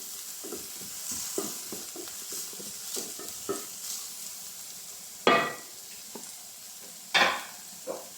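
Chopped spring onion sautéing in a pan for chicken Manchurian curry, soft intermittent sizzling with scattered stirring scrapes and two sharper utensil knocks toward the end, no talk.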